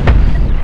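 A heavy spaceship gun volley in Cosmoteer lands as a single loud, booming blast that decays over most of a second, with no voices.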